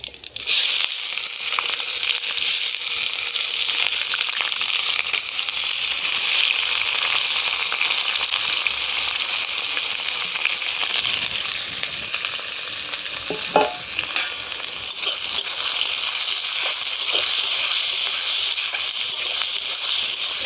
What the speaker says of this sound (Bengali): আমাদের কড়ার তেল গরম হয়ে গেছে। আমি এবার গরম মশলা দিয়ে দিচ্ছি। এলাচগুলো আমি ফাটিয়ে নিয়েছি। এবার আমি দিয়ে দেব পেঁয়াজ কুচি।